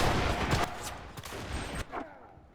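Gunfire in the online shooter Enlisted: loud, dense bursts of shots crackle through the first half, then a few sharper isolated reports follow as the firing thins out.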